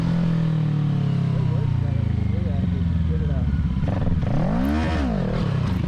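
A stock 2020 Kawasaki Ninja 650 revved all the way up for a clutch-up wheelie, the engine climbing and sweeping in pitch with a rising-falling surge near the end, heard alongside someone talking over it.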